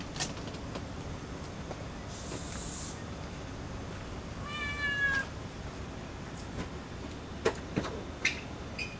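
A cat gives a single clear meow midway through a recording from a security camera at Grennel Slough, heard over a steady background hiss and high whine, followed by a few sharp clicks.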